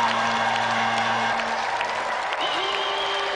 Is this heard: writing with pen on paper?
no